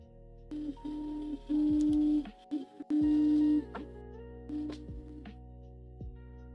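A 3D printer lays down the first layer of a test print, its stepper motors whining in short tonal bursts and stops of varying length, close and fairly quiet.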